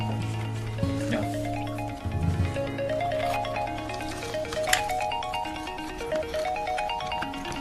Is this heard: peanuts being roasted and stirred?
no